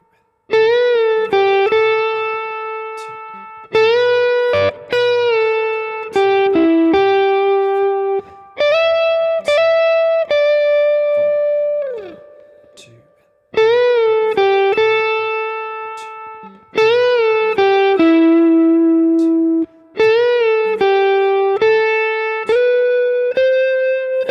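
Electric guitar plays a melodic lick from a song repeatedly, with notes sliding between pitches, clean and loud with short pauses between phrases.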